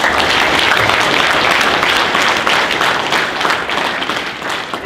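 Loud sustained applause from a student audience at a welding expo, a thick continuous roar of many hands that eases slightly near the end.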